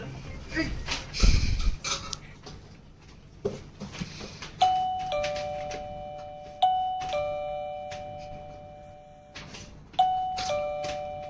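A doorbell chimes several times, each two-tone ding-dong ringing out and fading, with a brief rustle and faint voices early on.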